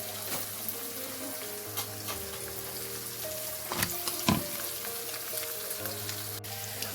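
Roti heats in a pan, giving off a steady, close sizzle with faint crackling and a few brief clatters of handling and no talk.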